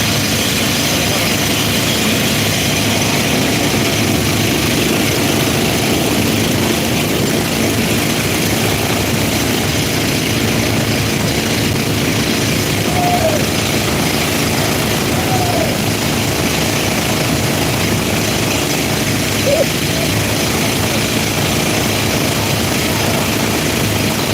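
A loud, steady tractor engine drone rumbles without a break for the whole stretch, heavy and unchanging.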